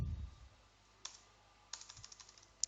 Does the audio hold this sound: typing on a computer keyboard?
yes